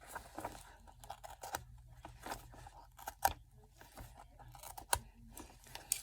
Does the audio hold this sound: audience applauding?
no